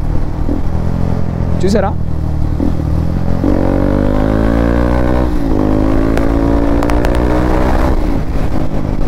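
A motorcycle engine revs and climbs in pitch during a downshift to overtake, a close steady drone that rises and dips, with someone talking over it throughout.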